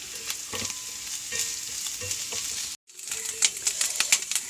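Ginger and garlic fry in a pan for sambar, giving a constant close sizzle with scattered crackles and stirring clicks. The sound cuts out for a moment midway, then the frying resumes, with no talking.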